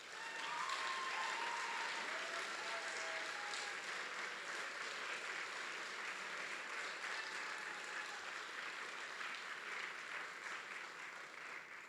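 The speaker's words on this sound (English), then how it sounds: "So please give them a big round of applause." Sustained audience applause at an ICPC SWERC programming contest closing ceremony, a dense, steady wash of clapping from a large crowd that stays loud across the whole stretch with no talk over it.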